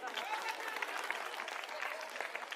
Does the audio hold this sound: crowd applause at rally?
yes